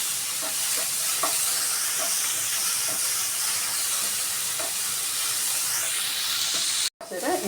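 Onions frying in a pan while stuffed brinjal is being made, a continuous loud hiss and sizzle with scattered stirring taps, cut off by a sudden drop near the end.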